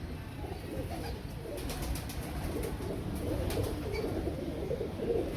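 Royal Teddy pigeons cooing in a cage, soft low murmuring coos under steady background noise, close and continuous.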